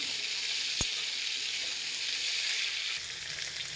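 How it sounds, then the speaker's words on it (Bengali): Potato and pointed gourd frying in a pan with a little salt and turmeric for a prawn dish, giving a steady, dense, close sizzle throughout with one brief knock near the start; no voices. "হালকা লবণ হলুদ দিয়ে ভেজে নেব"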